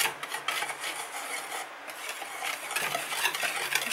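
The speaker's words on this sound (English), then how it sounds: "it says whisk it together" Dry ingredients for banana bread, including salt, are whisked together in a bowl, a quiet continuous scratchy rasping and rubbing with brisk repeated strokes, close by and without talk.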